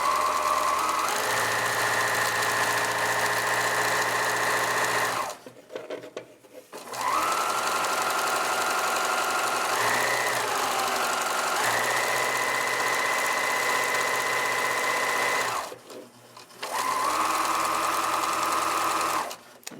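Sewing machine with a quarter-inch foot stitching Bargello quilt strips: loud, close, whirring runs of rapid stitching, broken by two short pauses before it starts up again.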